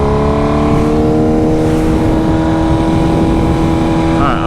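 A 2025 BMW S1000RR motorcycle engine drones loud and steady while riding, a smooth harmonic hum held at a constant pitch with wind rush underneath and a brief rising rev near the end.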